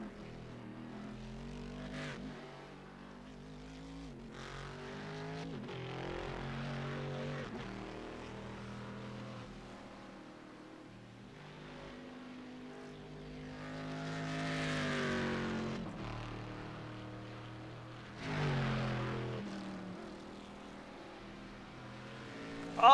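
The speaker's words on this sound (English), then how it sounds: "one of my favorite cars to listen to on the iRacing service, just raw power coming out of that Corvette" A Corvette GT1 race car in the iRacing sim roars around a track, its engine note climbing and dropping through gear changes and throttle swells, fairly faint and distant overall with a brief louder surge near the end.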